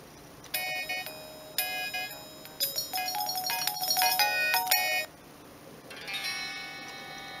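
A Siemens CX75 mobile phone plays a bright ringtone melody in several short bursts of electronic tones, pausing between phrases, then a softer sustained passage near the end; close and clear with no talking.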